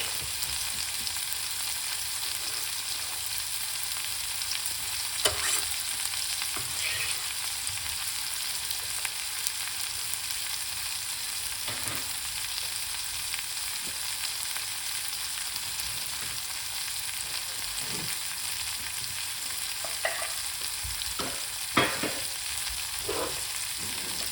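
Fresh garlic and purple onion frying in a pan, a steady broadband sizzle running throughout with occasional louder pops and stirring clicks, no talk.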